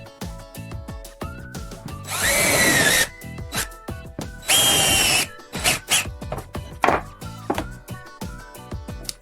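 Two sustained bursts of a power drill whirring as it drills a hole in a table, surrounded by clicks, taps and handling knocks from nearby tools.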